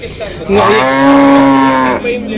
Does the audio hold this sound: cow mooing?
yes